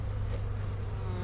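A steady, dense buzz of many honey bees at an open hive during a February inspection hums continuously and close, with no pauses.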